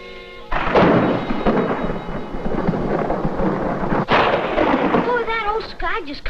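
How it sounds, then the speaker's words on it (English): Thunder follows a lightning bolt in a 1950s Western anthology TV drama. It bursts in loud after a brief quiet start and rumbles on for several seconds with a sharp crack near the middle, and a voice rises at the end. "Sky just cut loose with a bolt of lightning the likes of which I never seen."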